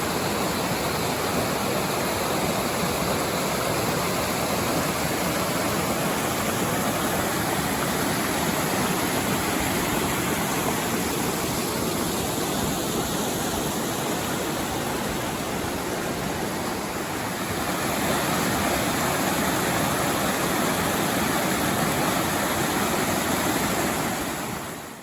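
Continuous rushing water from a creek in Nevada, broad and steady like a stream or small cascade, fills the whole stretch, swelling slightly toward the end.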